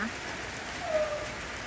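Rain falls steadily and evenly on the ground in a short stretch as a shower begins to ease, forming a broad constant hiss with no talking.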